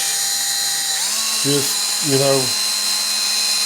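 A power drill spins a wire brush against rusty guitar screws, a steady high whine that rises in pitch partway through, with brief spoken words over it.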